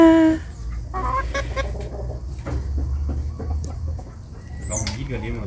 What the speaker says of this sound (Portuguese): Ele tá lá por causa do outro galinho.